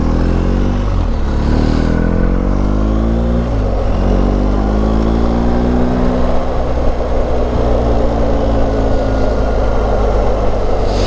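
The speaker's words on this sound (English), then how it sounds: "Yeah, that exhaust sounds so good." Loud, close BMW R1250GS boxer motorcycle exhaust running steadily throughout, with rising and falling engine pitch as it revs and accelerates, no voices.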